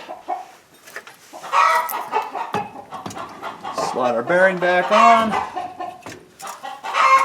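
Chickens clucking and squawking in the background, with repeated cackling calls while someone talks over them.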